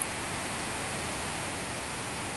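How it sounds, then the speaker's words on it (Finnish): A household vacuum cleaner runs steadily nearby, a loud unbroken broadband roar with no pauses, heard alone without talk. "imuri kiinni."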